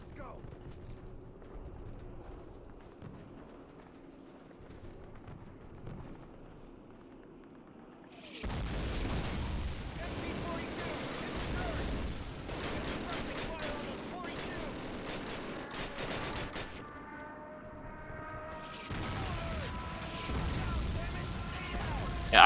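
Mortar blasts and gunfire in the 2003 Call of Duty boot camp level: a quiet start, then loud booming explosions and rattling shots from about eight seconds on, with tonal game sounds near the end and voices talking in places.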